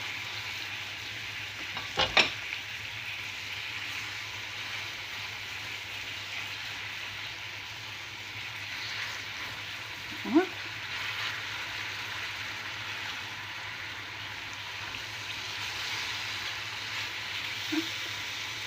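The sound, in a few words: bananas frying in caramelized sugar in pan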